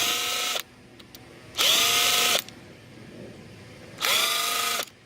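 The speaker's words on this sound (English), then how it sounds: "a lot of times I go through with the screwdriver just because they can be tight" Power screwdriver run in two bursts of about a second each, with a steady whine that winds up and down, while backing tight screws out of scrap to free a copper core. Quiet pauses sit between the bursts.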